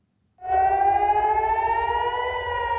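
Civil defense warning siren sounding over Israel during Iranian missile attacks, a loud steady rising wail that sets in abruptly after a moment of silence and holds through to the end.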